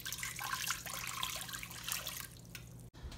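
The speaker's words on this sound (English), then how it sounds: "first thing we're going to add is a cup and a half of water" Water pours steadily into a turkey brine being mixed, a continuous close splashing trickle that stops abruptly near the end, with no talking.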